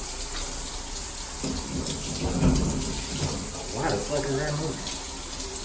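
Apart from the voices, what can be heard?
shower running, testing water pressure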